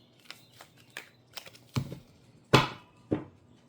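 Several soft, irregular papery snaps and riffles of cards being shuffled, close by, with quiet gaps between the bursts and no talking.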